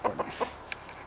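Three quick, fairly close chicken clucks in a row, followed by a single faint, higher chirp and then quiet.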